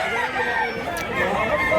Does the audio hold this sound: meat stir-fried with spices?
no